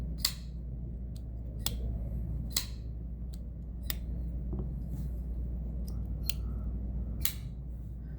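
Sharp metallic clicks from TRM Neutron 2 and Atom folding knives snapping open and shut, a dozen or so crisp, evenly spaced flicks over a steady low background hum, close and alone.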